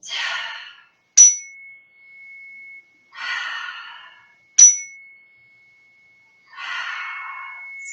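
Three slow, audible breaths during a yoga session, each a soft airy inhale-exhale, alternating with two bright chime strikes that ring out briefly; calm and close, no talking.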